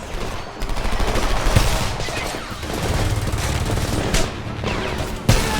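Constant rattling gunfire and explosions from a first-person shooter video game fill the scene, a dense, loud barrage of overlapping shots with a sharper blast near the end.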